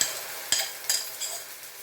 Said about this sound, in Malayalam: മുട്ട നമുക്ക് ഈ പാനിലേക്ക് ഒഴിക്കാം പാൻ ചൂടായോ നോക്കാം